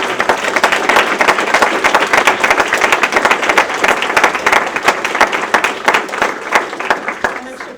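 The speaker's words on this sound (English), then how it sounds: "give them a nice little round of applause" An audience at an IGDA Chicago event claps steadily in sustained applause, a dense patter of many hands close by that continues throughout.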